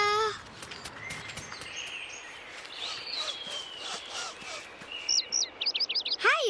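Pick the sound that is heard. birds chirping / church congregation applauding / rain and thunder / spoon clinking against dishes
birds chirping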